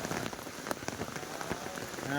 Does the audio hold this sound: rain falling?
yes